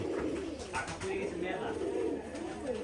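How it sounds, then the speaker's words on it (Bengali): Pigeons at a pigeon farm coo softly and steadily at close range, a low repeated cooing with a faint rustle of wings and a little background murmur. "আমাদের সামন ভাই কবুতর বাজি দেখাবে"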